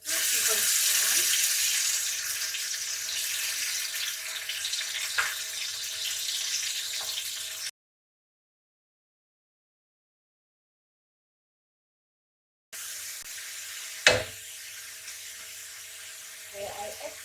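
Blended onion hisses and sizzles in a hot pan for mee siam, a steady close frying noise that cuts out briefly, then resumes more softly with a sharp clatter partway through.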